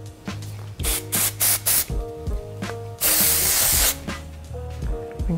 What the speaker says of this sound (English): Gonna spray a little bit more of that texture air.